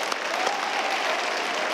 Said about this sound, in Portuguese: vamos aplaudir de verdade.